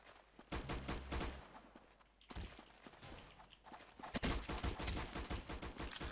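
Rapid bursts of gunfire from the online shooter game Roblox Arsenal, dense automatic fire in uneven volleys with a brief lull midway, fairly quiet overall with faint footsteps mixed in.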